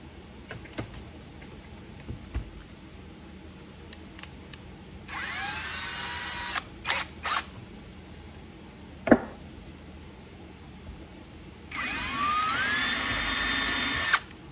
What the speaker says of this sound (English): Never drilled through bone before, but that was way too easy.